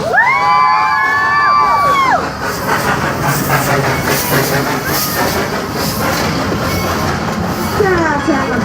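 An amusement park train rolls past with wheels clacking as passengers scream and cheer loudly together, a long whistle-like tone sounding at the start, with excited crowd voices throughout.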